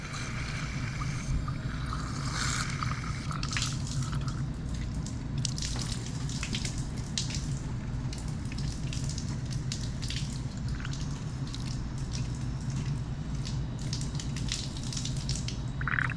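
Continuous gurgling and bubbling of water with irregular splashy bursts over a steady low hum, close up and without voices, as water fills a coolant hose while burping the cooling system of a 440 Six Pack engine.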